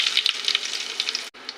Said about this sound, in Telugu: కొద్దిగా మెంతం కూర బాగా నూనె వేడిగా ఉన్నప్పుడు వేయాలి, అది బాగా వేగుతుంది